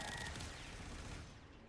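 Frost shooting in the video game Warframe, a steady, dense stream of rapid gunfire that holds loud and close for the whole moment before easing slightly at the end.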